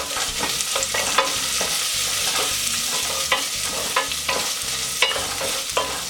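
Onions sautéed in a pan on medium heat for Filipino lechon sauce, a loud steady sizzle broken by repeated rhythmic spatula scrapes and clacks against the pan, close up with no talking.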